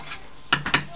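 A small child playing at cooking clatters metal pots and utensils, a few quick bright clanks close by over a quiet room.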